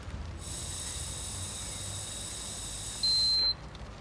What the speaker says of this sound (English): Then you blow into your breathalyzer until a beep sounds.